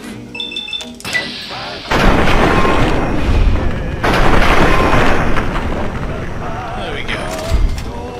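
Raider's pistol fire in Fallout 3, with sharp booming shots hitting in loud bursts over a rumbling game soundscape, and a voice murmuring faintly between them.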